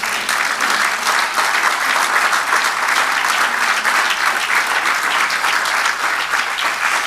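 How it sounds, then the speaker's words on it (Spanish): A church congregation applauds during a sermon, a dense, steady wash of many hands clapping that fills the whole stretch at close, even loudness without a break. "Dale un aplauso al Señor."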